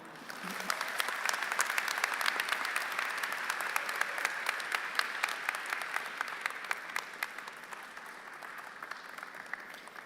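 Sustained applause from a convocation audience, steady dense clapping for about ten seconds that slowly thins, heard at moderate distance with no voices.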